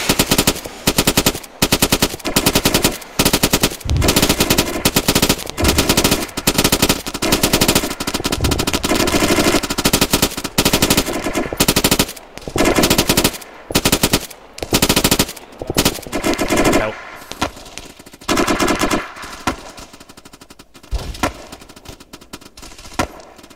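Machine gun fire in the Arma 3 military game during a large squad exercise, long loud bursts of automatic fire repeating almost without pause, close and dominant, with brief gaps near the end and no talk.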